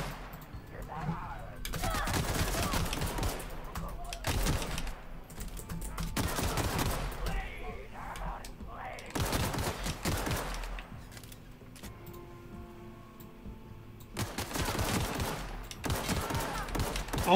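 Bursts of rapid gunfire from The Outer Worlds game crackle in repeated volleys across a firefight, loud and close, broken by short pauses, while a voice talks between and over the shots.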